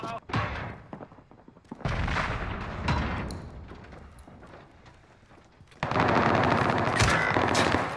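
Gunfire in Call of Duty: Modern Warfare, loud dense bursts of automatic shots and heavy blasts, building to a sustained barrage near the end.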